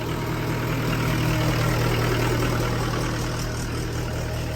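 A generator engine runs steadily and loudly with a constant low rumble and broadband noise, no pauses, no talking.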